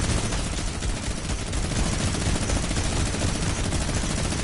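Continuous dense gunfire from a battle royale video game during a boss fight, a steady loud rattle of rapid shots with no pauses, filling the whole stretch.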